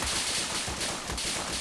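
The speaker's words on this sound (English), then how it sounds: "Rifleman, take some shots on these guys in the field by that burning tank" Continuous rifle gunfire in a WWII-era Arma military game battle, a dense, loud crackle of overlapping shots with a few stronger reports, no talk.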